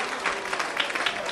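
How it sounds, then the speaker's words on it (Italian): Crowd applause at an Italian amateur football match, Nardò against Grumentum, a brief steady patter of clapping from the stands heard at a distance. "applausi per lui"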